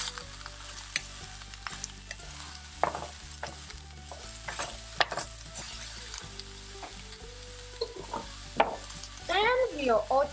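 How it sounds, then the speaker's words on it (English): Cabbage and cauliflower sautéing in a pan, a continuous sizzle with repeated utensil stirs and scrapes, ending in a louder burst of crackling frying. "And let it saute for a bit."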